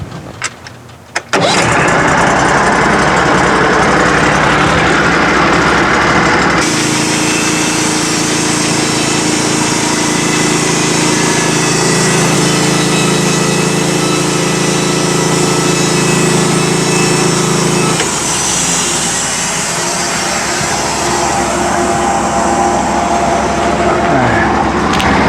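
Sawmill engine running while milling a log of about ten feet, starting up after a brief pause and then droning loudly and steadily, with the pitch and load shifting partway through as the cut proceeds, close by and with no voices.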